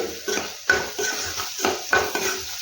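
Masala for aloo fry being mixed in a pan, a spoon scraping and clinking against the metal in repeated strokes over a low sizzle, close by and with no talking.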